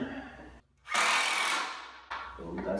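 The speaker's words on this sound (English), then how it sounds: "Now that I've got the right bit, I can start fastening." A cordless power drill drives a screw into a wooden workbench without pre-drilling, whining loudly in a steady burst after a brief pause, then starting again in a second run.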